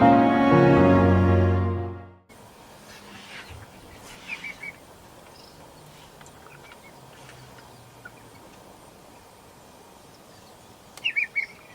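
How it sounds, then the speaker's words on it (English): Scattered bird calls in the bush along a gravel drive in Kruger National Park, South Africa, a few short chirps standing out faintly over a steady quiet outdoor background, with one brighter cluster of calls near the end. "Throughout most of our drive on the S82, we mainly encountered a variety of birds."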